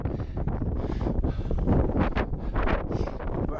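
Strong wind blasts across the microphone at a wild camp near a bothy, giving a continuous, loud, gusty roar with fluttering surges throughout.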